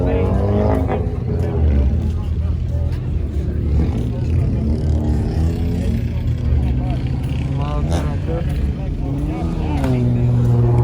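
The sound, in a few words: car engine revving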